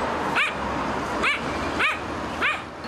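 Stray dogs bark outdoors, four sharp barks spaced roughly evenly over a steady background hum, moderately close.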